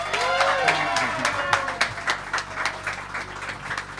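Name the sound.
audience applause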